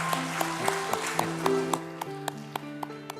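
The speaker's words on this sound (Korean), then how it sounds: "하나님께 영광의 박수를 올려드리겠습니다" A church congregation claps during a Sunday worship service, crisp hand claps in a steady, regular rhythm, sounding over sustained keyboard tones that hold and shift underneath.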